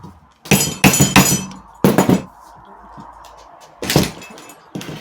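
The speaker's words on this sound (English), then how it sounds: "let's use the hammer now." Sharp metallic hammer blows on a stuck part of an old Bentley come in uneven clusters, several quick strikes, a pause, then more, loud and close.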